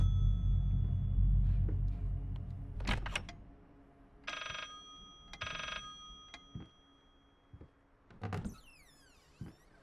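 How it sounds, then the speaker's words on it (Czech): In the VR horror game Layers of Fear, an old telephone rings in two loud bursts of bell clatter amid creaks, thuds and other ambient game sounds. "Tady je někde telefon, jo?"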